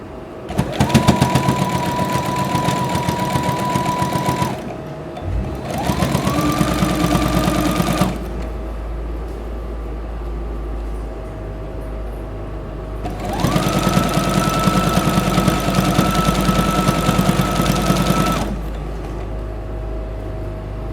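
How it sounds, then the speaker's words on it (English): A sewing machine stitches fabric in three bursts of rapid mechanical stitching, whirring and clattering loudly, with short pauses and a low hum between runs. "Make sure that your foot is down, press down on it, and start sewing."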